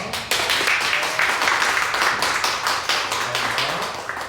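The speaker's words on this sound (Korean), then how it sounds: "인사하실 때 박수로 환영해 주시기 바랍니다." A church congregation applauding steadily to welcome a speaker, dense overlapping claps filling the whole stretch at an even, moderate volume.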